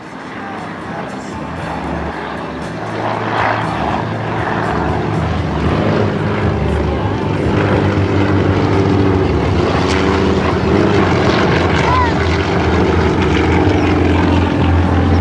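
Propeller aerobatic airplanes of the Aerostars team drone overhead in a pair at the 2011 NAS Pax River Air Expo, the engine roar building steadily and staying loud and sustained as they pass close.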